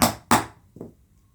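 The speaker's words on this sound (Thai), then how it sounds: "แล้วก็ใช้ค้อนตอกเลยนะคะ" Three sharp hammer strikes on a metal hole punch piercing plastic strapping, two loud blows in quick succession followed by a softer third, each a crisp knock on the tool.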